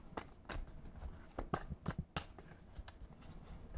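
Tarot cards being shuffled by hand, with soft papery riffles and brief slaps in an irregular rhythm, close and quiet.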